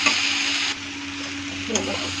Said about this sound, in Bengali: ছেড়ে দিয়ে ভালো করে নেড়ে চেড়ে নেব।